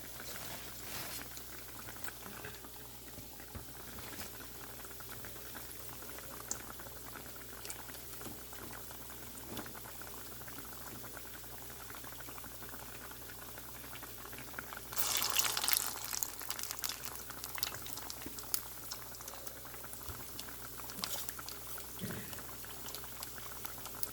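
Food simmers in a pot with a quiet, steady bubbling and soft patter of liquid, swelling into a brief louder gurgling burst partway through, with no talking.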